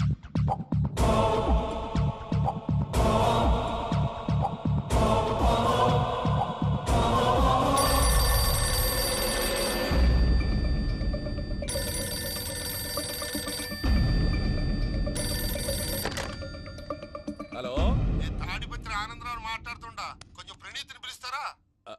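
A telephone rings in repeated bursts during a Telugu comedy film scene, loud and close. Background music runs beneath it, and voices take over later.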